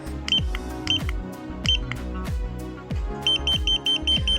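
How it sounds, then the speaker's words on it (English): A hidden camera detector alarm beeps repeatedly in a quick pulsing pattern, with a rhythmic thumping underneath, close and fairly loud. "so I heard an alarm, so there must be a hidden camera somewhere"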